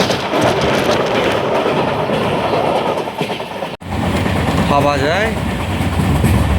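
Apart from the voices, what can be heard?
Kamrup Express train running fast on rails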